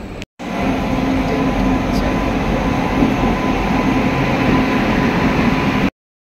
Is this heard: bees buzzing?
no